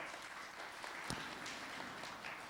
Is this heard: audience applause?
yes